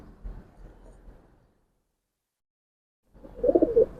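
Bagha and silver pigeons coo in a short, nearby burst near the end, following a low murmur of activity and a silent pause.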